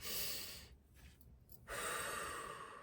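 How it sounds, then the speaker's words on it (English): A single deep breath, drawn in and then let out, sounds close and soft as a brief airy inhale followed by a long exhale, alone with no talk. "Take a deep breath."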